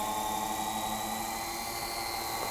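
An electric sunbed motor on a Crownline E29 XS or E30 boat runs as a steady, close mechanical whine with a constant hum throughout.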